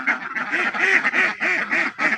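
A flock of ducks quacks loudly and steadily while being called over to eat paddy, with repeated, closely spaced nasal quacks.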